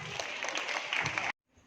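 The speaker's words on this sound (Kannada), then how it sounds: "ಅವರಿಗೆಲ್ಲರೂ ಒಂದ್ಸರಿ ಜೋರಾಗಿ ಚಪ್ಪಾಳೆ ಬಡಿಸಿ ನೋಡೋಣ." A crowd claps at a school day event, loud and even for just over a second, then cuts off sharply to near silence with a faint voice at the end.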